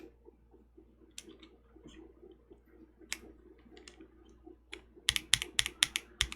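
Boba prototype linear and tactile mechanical keyboard switches in an O-ring mount are typed on up close: soft, scattered clacks at first, then a quick run of sharper, louder keystrokes near the end, with no voices.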